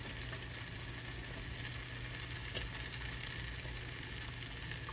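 Stuffed French toast sizzling in a skillet of milky egg liquid, a steady, close frying hiss with soft crackle that holds evenly throughout.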